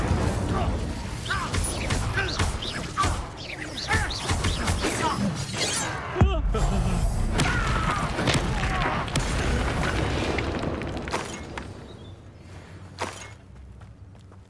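A fire spell cast in the video game Hogwarts Legacy, booming and crackling amid a dense, continuous wash of game combat noise, with a sharp burst near the middle and other crashes and clatters around it.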